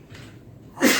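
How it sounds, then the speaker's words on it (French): A single sharp human sneeze, close and loud, bursting out near the end after a brief quiet intake. "J'ai éternué."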